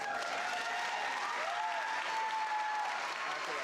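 Graduation ceremony applause at Horizon Science Academy Toledo: a steady wash of many hands clapping at a moderate distance, continuous and even throughout.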